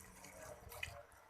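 Water being poured into a pressure cooker holding chana dal, a soft, brief splashing and trickling close by, faint and steady with a small splash near the end.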